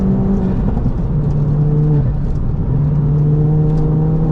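A 320 BHP stage 3 big-turbo Ford Fiesta ST accelerates hard on a road, its engine droning loudly and steadily from inside the car with the pitch climbing and dipping through the gear.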